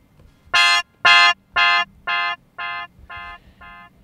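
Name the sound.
Ableton Echo effect on wavetable synth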